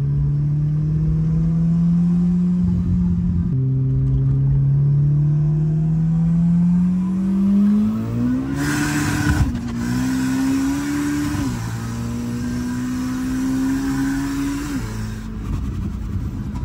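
A 700 hp Volkswagen Golf 2 engine runs loud and close, holding a deep steady idle, then rising through several revs that step up and settle back, with a burbling rough tone throughout and no talking.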